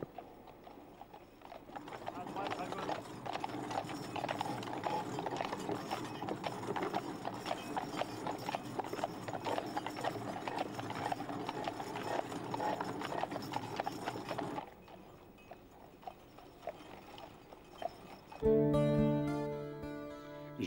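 Draft horses pull a heavy sled on wooden runners, their hooves clip-clopping steadily for a long stretch with a constant scraping rumble, and a voice speaks over them; near the end a horse gives a short whinny.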